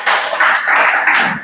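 A classroom of students claps together on the teacher's request, a dense, steady burst of many hands that runs loud throughout with a brief dip near the end.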